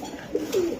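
Iranian Toggi pigeons at a pigeon market give a short, soft cooing call, with one brief coo followed by a longer one at close range.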